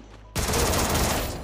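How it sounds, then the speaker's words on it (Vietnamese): A loud burst of gunfire erupts abruptly after a short quiet moment in Free Fire, an electric sniper rifle shot followed by dense, sustained crackling blasts that fill the rest of the moment. "bắn súng ngắm điện mà ghê thật chứ"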